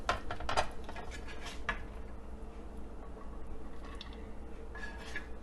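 Yakhni pulao is served onto a dish, with faint clinks and scrapes of a utensil against the pot and plate, a few sharper taps near the start, over quiet room hum.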